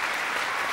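A brief burst of studio audience applause on a French television variety show, a thick, even patter of many hands clapping at once.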